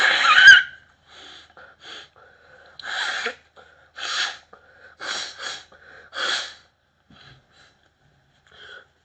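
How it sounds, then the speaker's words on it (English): Someone blows their nose in a series of sharp, breathy bursts and snorts, separated by pauses, close and fairly loud. "wait, blow my nose."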